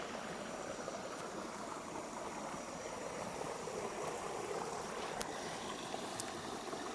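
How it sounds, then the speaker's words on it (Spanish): A small countryside stream flows steadily, a soft continuous wash of water with no breaks, heard alone at a low, even level. "Vemos aquí a un pequeño arroyo, el agua fluye, se mueve."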